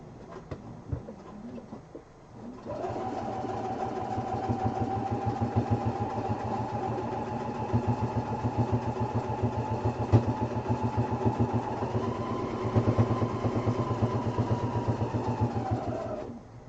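A sewing machine stitches a quilted duffel bag, its steady motor hum and rapid needle rhythm running continuously for about fourteen seconds after a brief pause at the start.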